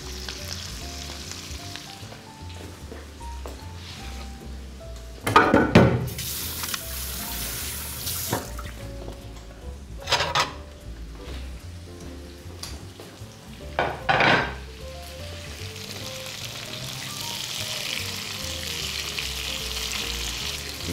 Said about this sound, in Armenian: Լյարդը շատ երկար չի կարելի տապակել